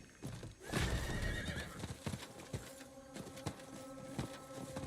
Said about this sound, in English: the damn horse got stuck on something again